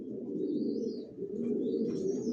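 A male racing pigeon from a long-distance line sits on eggs in a loft and coos in a steady, close, low murmur that runs throughout, with faint higher chirps above it.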